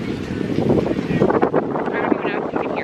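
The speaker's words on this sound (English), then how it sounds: "It's a little windy" Wind buffets the microphone with a steady low rumble on a sunny California day while a person talks over it.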